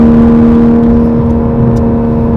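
A 2020 Toyota Supra accelerates hard and shifts gears, its engine a loud, steady, close-up drone throughout with no voices.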